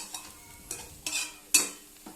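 Boiled ghugni peas with a pinch of salt stirred in a pan with a spatula: five or six separate scraping strokes, close and crisp, over a soft sizzle.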